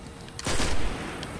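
Gunfire in Destiny on Xbox 360 comes as a single short burst of rapid shots, brief and moderately loud.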